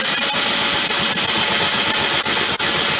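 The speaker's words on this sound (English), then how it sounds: "once we have the hole drilled" A power drill bores through the sheet-metal shell of an RV air conditioner with a loud, steady whirring grind, broken by a few brief dips as the bit bites.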